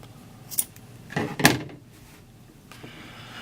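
Scissors snipping yarn in a quiet indoor setting, with a light click followed by a sharper, louder cut a second later, close and brief with no talk.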